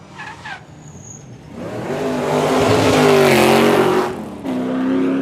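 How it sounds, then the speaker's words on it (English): A Ford Capri V8 rally car roars past at speed on a rally stage, engine note rising to a loud, close peak with tire squeal before dropping away and picking back up. "Try to capture some of that V8 noise here."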